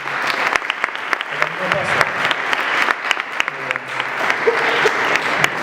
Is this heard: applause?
yes